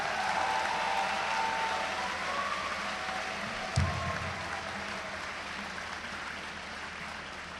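Applause at a university convocation in Punjab, a steady, broad wash of clapping from a crowd, fairly distant and even throughout, with one brief louder thump partway through.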